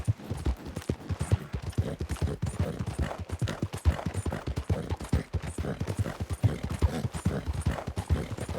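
Horse galloping in the video game Red Dead Redemption, rapid rhythmic hoofbeats pounding steadily and close throughout, loud and continuous with no talking.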